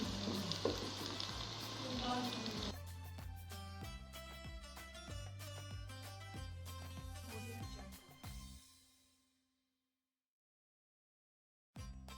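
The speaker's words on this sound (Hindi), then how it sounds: "शिमला मिर्च को ज़्यादा फ्राई करने की ज़रूरत नहीं, एक साइड पर 3 अंडे डाल दें और इनको मिक्स कर लें।" Eggs and capsicum frying and being stirred together in a pan for fried rice, a steady sizzle with repeated utensil scrapes and clinks, loud and close, ending in a sudden cutoff to silence before a final brief sound.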